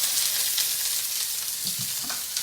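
Onions sizzling in hot oil in a preheated wok for beef fried rice, a steady bright crackle close up, with a few soft stirring knocks toward the end and no talking.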